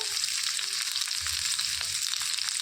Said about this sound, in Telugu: ఆయిల్ వేడెక్కిందండి ఇందులోనికి తరిగి తీసుకున్న ఉల్లిపాయ వేసేసుకోవాలి